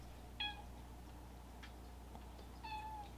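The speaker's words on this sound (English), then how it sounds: "this cat is bullying me" A house cat meows twice, short and fairly clear with a quiet pause between, against a faint indoor background with no talking.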